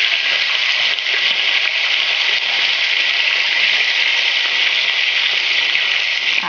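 Chicken wings frying in oil heated over high flame, a steady, loud, continuous sizzle with no pauses and no voices.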